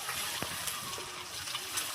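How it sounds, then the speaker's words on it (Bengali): Duck eggs frying in a pan just after being flipped, a steady close sizzle with small pops and brief scraping clicks throughout. "1 পিঠ ভাজা হয়ে যাবে, উল্টে দেওয়া হয়েছে ডিমগুলো।"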